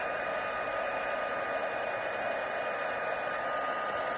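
A heat tool blows a steady, even whir close by as it melts embossing powder on cardstock, an unbroken airy drone with no voices.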